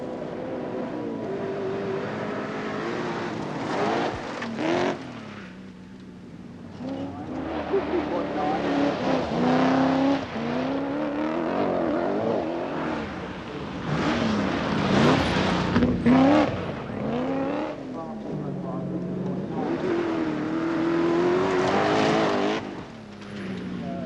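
A big Austin Rover rally saloon is driven hard along a slippery forest stage, its engine roaring and rising and falling through gear changes as it passes, with a commentator talking over it throughout.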